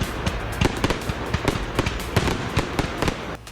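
Fireworks pop and crackle in a rapid, irregular string of sharp bursts, loud and close, going on without a break throughout.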